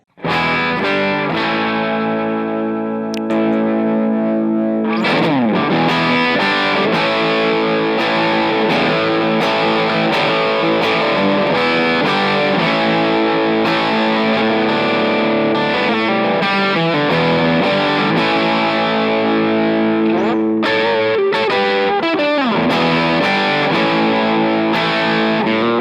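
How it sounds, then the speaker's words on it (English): Electric guitar on the bridge pickup through a low-gain overdrive pedal with less mid-range, a continuous run of chords and single-note lines with slides and bends, played loud and close with no talking. "I'm gonna dial my overdrive pedal just to give me that extra bit of juice"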